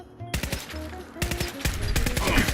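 Rapid bursts of automatic gunfire in Fallout 4, loud repeated shots in quick strings with brief gaps between volleys.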